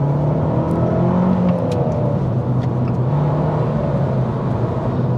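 Abarth 595 esseesse engine revving smoothly up through its rev range while driving, a steady loud in-cabin drone of engine and road noise with the pitch gradually rising.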